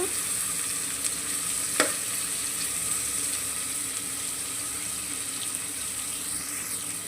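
Onions frying in a pan for a cluster bean curry, a steady close sizzle with a faint hiss throughout and a single sharp click near the start.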